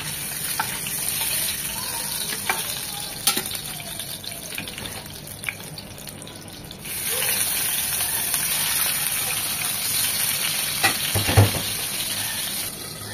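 Pieces of rohu fish fry lightly in hot oil in a pan, a steady loud sizzling hiss that swells partway through, with occasional clinks and crackles and no voices.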